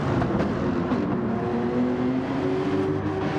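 Toyota GR Cup race car engine in a racing game at the Red Bull Ring, droning steadily and loudly throughout with rough, crackling texture but no clearly distinct pops or bangs standing out.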